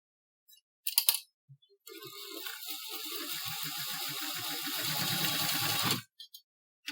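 Sewing machine stitching the seam of a fabric mask edged with paracord, one continuous close run of rapid needle strokes lasting several seconds, bracketed by brief clicks and handling taps.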